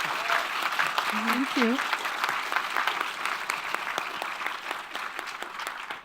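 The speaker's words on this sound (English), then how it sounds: "Could we please give our panelists a warm round of applause?" Warm round of applause from a live audience for the panelists at the close of an illustration and comics panel, dense steady clapping throughout, with a brief spoken thank-you near the start.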